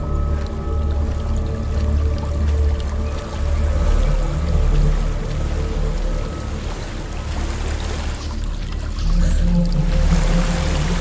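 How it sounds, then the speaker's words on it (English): Continuous rushing, low roar of a waterfall in the Hellblade video game, steady and full throughout with a slight swell near the end and no talk over it. "There's a waterfall."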